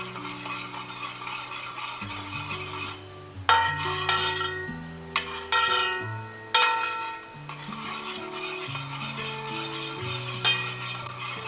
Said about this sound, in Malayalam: എന്നിട്ട് നല്ല പോലെ ഒന്ന് ഇളക്കി കൊടുക്കുക